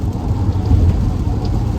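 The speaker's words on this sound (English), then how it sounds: "Sorry, we're just moving in the rain." Steady, dense rain drumming on a car while driving, a loud continuous wash with no voices.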